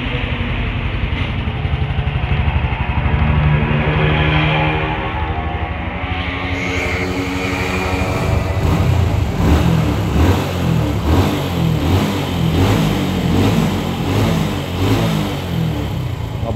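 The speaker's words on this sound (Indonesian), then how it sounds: "Suara mesin halus lagi." A fuel-injected Honda Revo motorcycle engine, freshly repaired, runs smoothly and close by, its steady hum rising and falling through several revs with no voices over it.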